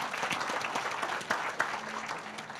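Steady applause from a crowd fills the whole stretch, a dense patter of many hands clapping at moderate distance.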